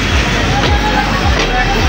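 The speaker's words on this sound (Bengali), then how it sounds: "ট্রেন ছেড়ে দিল, এখন আমরা চলে যাচ্ছি আলমডাঙ্গা।" A passenger train pulls away, bound for Alamdanga, with a loud, close rolling rumble and a few rhythmic wheel clacks over a short stretch.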